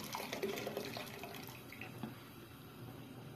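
Boiling water poured over lentils in a pot, a steady liquid splashing and trickling that is loudest early on and then eases to a softer flow, heard alone without talk.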